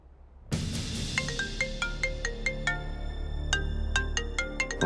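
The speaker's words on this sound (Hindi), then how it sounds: "अभी लगाती हूँ नील को फोन" A repeating electronic phone ringtone melody in the TV serial Qurbaan Hua, with bright tonal chimes, loud and close, playing continuously over a low background hum.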